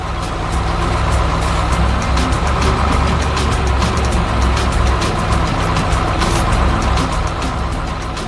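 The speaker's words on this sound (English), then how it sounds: "here comes the hero of the day, our trusty tow truck" A tow truck engine from an animated cartoon rumbles in a steady, loud, continuous drone, close and unbroken, with no voices over it.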